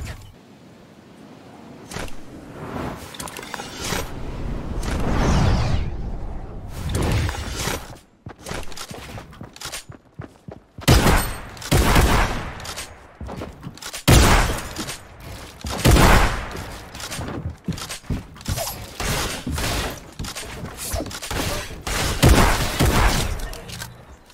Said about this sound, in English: Nice tack shotgun, buddy.